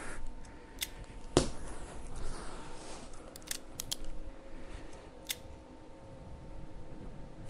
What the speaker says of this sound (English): I'll just wham a few in. It's always a bit awkward for me, these speed loaders.